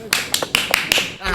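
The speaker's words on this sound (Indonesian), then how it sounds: "Woi, apa itu? Tepuk tangan." Several sharp hand claps in quick bursts, close and fairly loud, with a brief pause between groups, from people applauding around a boss at a cooking scene.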